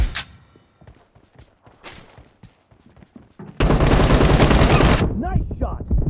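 M4 rifle fire in the PUBG Mobile video game: a few scattered single shots, then a loud, close automatic burst lasting about a second and a half, followed by a short flurry of lighter clatter.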